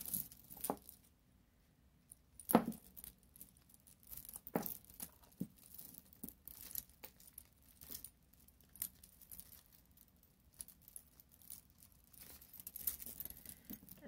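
Beaded chain necklace with small seed beads, handled and untangled up close: quiet intermittent clicks, rattles and jingles of beads and links, some sharper taps, in a hushed room.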